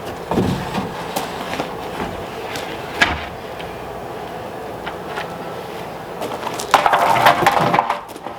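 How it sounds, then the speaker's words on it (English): Hammer whacking a piece of wood laid over bolts to mark their locations, a few scattered dull knocks amid rustling and shuffling, the strongest hits landing near the end. "Just give it a couple whacks with a hammer so it'll mark those locations."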